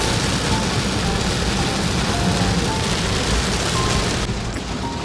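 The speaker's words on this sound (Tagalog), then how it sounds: "Parang may bagyo. Ayan, grabe ulan." Heavy rain pours down in a dense, constant roar that fills the whole clip, with no voices heard.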